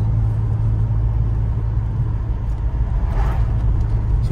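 A 1993 Saab 900 Turbo S 16v Aero with a rebuilt turbo drones steadily from inside the car, a deep continuous engine rumble with a brief surge of higher-pitched whoosh partway through.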